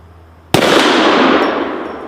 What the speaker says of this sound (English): I'll shoot the hanging propane, or the hanging tank over there